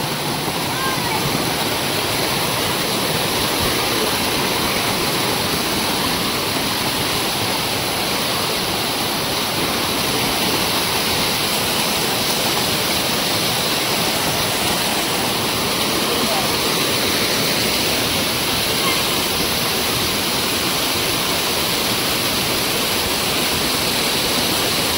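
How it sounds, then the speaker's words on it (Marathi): A loud, steady roar of a forest waterfall near Katta, Malvan in the Konkan fills the scene, constant rushing water with no pauses, close by and overpowering. "इथे ह्यात धबधबा"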